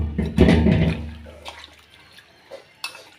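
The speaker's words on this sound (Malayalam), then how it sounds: "ഇപ്പോൾ ലേശം വെള്ളം ഒഴിക്കുക," Water is poured into a pot of chicken curry, a brief close splashing gush that fades into quieter drips and small bubbling sounds.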